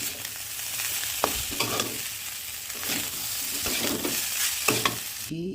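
Chow mein is stir-fried in a home kitchen pan, giving a steady close sizzle broken by repeated scraping and tossing strokes of a spatula, with no talking.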